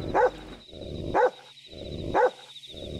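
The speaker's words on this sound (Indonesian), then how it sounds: "Why are they all barking so much?" Three evenly spaced, fairly loud dog barks ring out in the video game Yomawari: Lost in the Dark, about one per second, over a steady high ambient tone.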